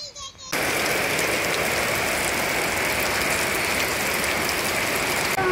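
Heavy rain pours steadily and loudly as a dense, unbroken hiss, starting abruptly after a brief quieter moment, at an outdoor Bihu mud-water event in Assam.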